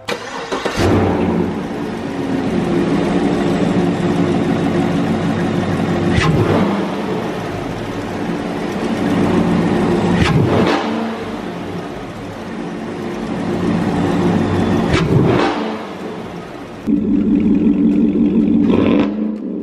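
A 2017 Yukon Denali SUV engine fitted with a cold air intake cranks and starts, then idles roughly and revs up repeatedly in loud surges, close by with a deep rumbling exhaust.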